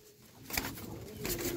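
Red Moti pigeons in a loft give soft, low cooing over a brief stretch, close but faint, with a couple of small rustling bursts mixed in.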